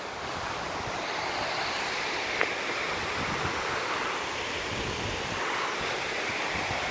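Water pouring over a small dam in African bush country, a steady, dense rushing roar that holds evenly throughout without letting up, no voices.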